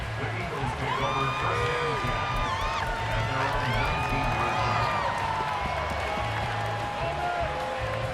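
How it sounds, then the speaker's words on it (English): Home crowd at a professional American football game cheering and whooping loudly after a touchdown, a sustained roar with scattered whistles and shouts and a commentator's voice running over it throughout. "And the home crowd loves it."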